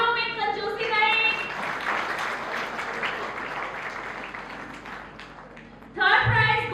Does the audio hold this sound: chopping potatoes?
no